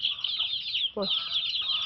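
Farm chickens or fowl clucking close by, a short burst of clucks and chattering calls over a bright, steady high-pitched background hum.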